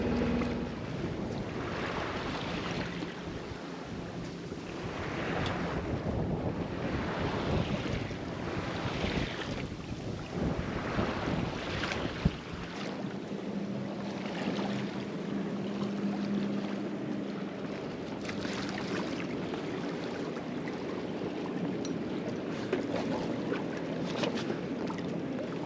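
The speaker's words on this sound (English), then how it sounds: "We have just enough wind to be sailing." Sailboat under sail in light wind on open ocean near Moorea in the Society Islands, with constant wind buffeting and rushing water against the hull, a broad steady roar throughout with no talk.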